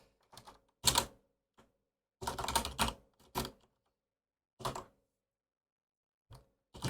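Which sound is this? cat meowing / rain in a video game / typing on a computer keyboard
typing on a computer keyboard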